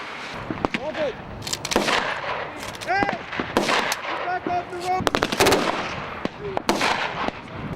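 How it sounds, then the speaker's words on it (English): Soldiers fire weapons during a military exercise with tanks nearby, a loud ongoing mix of rapid gunshots and bursts with sharp cracks, against a steady background of engines and voices. "Soldiers firing weapons, smoke billowing in the sky, and rows of tanks preparing for battle."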